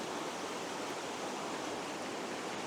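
The River Dart pours around rocks in woodland, a dense, even roar of moving water heard close and continuous without any talking.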